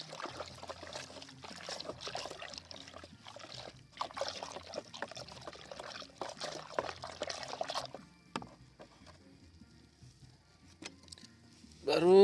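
Pesticide solution is stirred and mixed in water for a cucumber crop spray, giving a continuous close sloshing and swirling of liquid for several seconds, then fainter trickles and a louder splash at the end.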